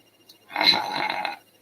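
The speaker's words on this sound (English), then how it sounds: "I'm burping up my coffee" A single short burp after drinking coffee, a brief close guttural sound lasting under a second in an otherwise quiet moment.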